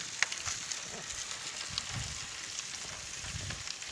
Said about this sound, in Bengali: আমরা হালকা করে একটু ভেজে নেব